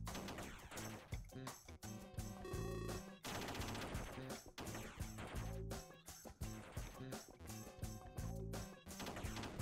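Rapid machine-gun bursts from the video game Rolling Bird, loud and dense, with steady rattling fire over busy game music and effects throughout.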